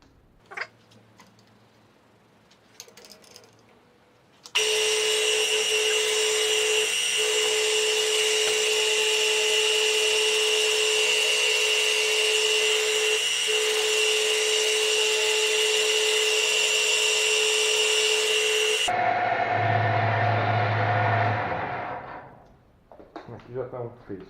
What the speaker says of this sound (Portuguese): A broca de centro é feita só para marcar o começo do furo.